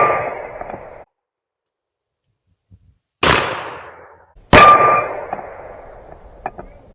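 Two loud, sharp reports of .44 Russian cartridges being fired, each followed by a ringing, metallic decay, after a second of faint background and a quiet pause.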